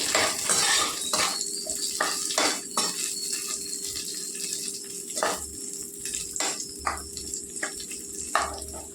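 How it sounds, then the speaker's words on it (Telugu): Bottle gourd pieces and green chillies for chutney stirred while frying in a pan, repeated scraping and clinking of a spoon against metal in irregular bursts over a faint steady sizzle, close up with no talking. "కలుపుకుంటూ వేసుకోవాలండి, అన్నీ సమానంగా వేగుతాయి."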